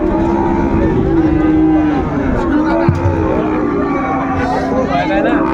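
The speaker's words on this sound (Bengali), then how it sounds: "আমরা দেখছিলাম সুন্দর গরুগুলো" Friesian and crossbred bull calves and cattle at a livestock market in Dinajpur, Bangladesh, low drawn-out moos rising and falling nearby over a continuous hubbub of crowd chatter.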